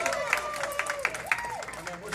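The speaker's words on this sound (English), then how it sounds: "Let's give them a round of applause." An audience gives a round of applause at a live show. Scattered, fairly sparse claps sit under a speaking voice that dominates the moment.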